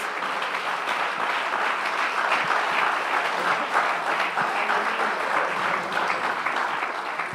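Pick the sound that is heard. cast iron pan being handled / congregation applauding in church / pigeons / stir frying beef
congregation applauding in church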